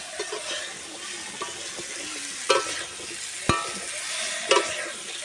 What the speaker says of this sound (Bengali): আলু দিয়ে ভালো করে নেড়ে থাকবো